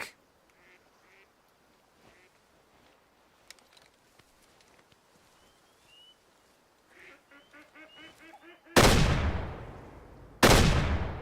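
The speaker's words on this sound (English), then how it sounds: "Duck!" Duck quacking in the hunting game Way of the Hunter: a quick run of nasal quacks in the mid-distance, then two loud, sudden gunshots that cut over everything.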